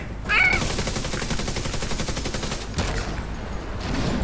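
Gunfire and explosions in Tom Clancy's The Division 2, a sustained dense rattle of shots under a low rumble, moderately loud and continuous with a sharp burst near the start.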